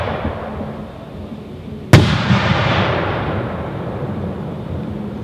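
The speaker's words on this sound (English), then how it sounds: "4-inch smiley face. Double brocade ring ending with red tips with red strobe core and tail." A 4-inch smiley face firework shell, a double brocade ring with a red strobe core, bursts once with a sharp, loud boom, then a long crackling, hissing tail slowly fades away outdoors.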